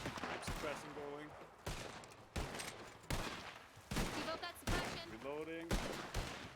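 Sustained suppressive gunfire in a tactical police shooter game, loud bursts of automatic fire and single shots cracking repeatedly throughout, with a voice and radio-style chatter talking over the shooting.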